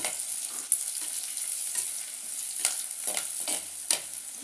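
A lake fish curry mixture with garlic frying in a pan, a steady bright sizzle with light spoon scrapes and taps at intervals, close and continuous.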